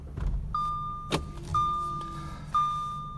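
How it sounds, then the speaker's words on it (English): A 2014 Audi A5 Cabriolet 2.0T Quattro's push-button start: a soft electronic chime repeats three times over a low hum, with a brief mechanical whir as the system comes on, quiet and close. "Foot on brake, push to start."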